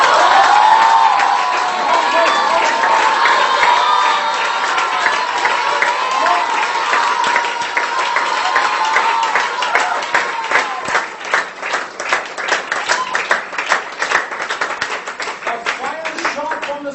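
An audience at a public speaking presentation claps and cheers, a dense wash of applause that thins into distinct, close claps toward the end, with voices mixed in.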